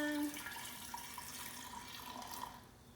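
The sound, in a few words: pouring raw kombucha into jar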